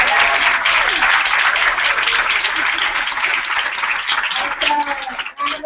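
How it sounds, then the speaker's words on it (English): Audience applause at a livestreamed talk on taxonomy, a sustained dense wash of clapping from a crowd that tapers slightly toward the end, loud and steady. "Let's give a big round of applause"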